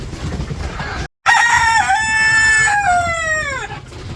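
A village rooster crows loudly, one long drawn-out call close by after a brief gap of silence, with faint clucking from farm chickens around it.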